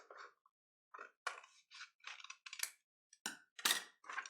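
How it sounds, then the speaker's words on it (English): Scissors snip along a drawn line through paper, a series of short, crisp close-up cuts in irregular bursts separated by brief pauses, with no talking. "take my scissors,"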